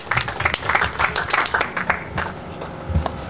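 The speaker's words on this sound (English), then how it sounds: "Let's give him a round of applause." An audience at a foundation lecture breaks into dense, lively applause with many hands clapping close by, easing off toward the end as a voice starts to speak.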